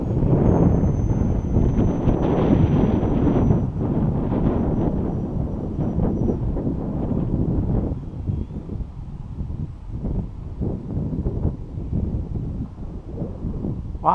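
Strong wind buffeting the microphone outdoors in winter during an E-flite Eratix RC plane flight, a loud continuous rumbling roar that eases slightly partway through, with a faint distant motor whine.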